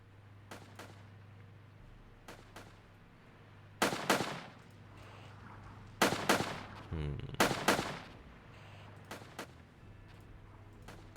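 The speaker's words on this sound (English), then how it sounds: "Taking fire from something here, apparently. Oh, artillery." Artillery and gunfire from the Armored Brigade war game: scattered distant shots, then several heavy booming impacts spaced a couple of seconds apart, over a low steady rumble.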